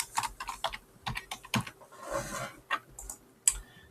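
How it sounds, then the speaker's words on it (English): Uneven bursts of clicking keystrokes as a project title is typed on a computer keyboard, close and fairly loud, with no voices. "So up in the left hand corner here we're going to type in Key Moves."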